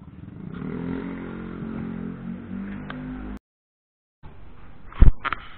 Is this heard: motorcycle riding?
yes